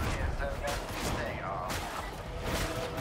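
Gunfire erupts in dense bursts during a chaotic co-op fight against Poxwalker hordes on Damnation difficulty in the video game Warhammer 40k: Darktide, with game voices and other combat noise running throughout.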